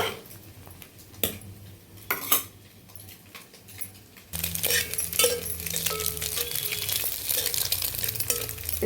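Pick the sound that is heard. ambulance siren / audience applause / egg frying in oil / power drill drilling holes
egg frying in oil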